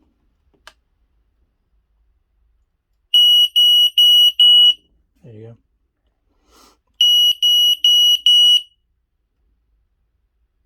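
A smoke alarm being tested on a narrowboat gives two clusters of loud, shrill electronic beeps, four pulses each, separated by a pause with a brief spoken phrase and a soft knock.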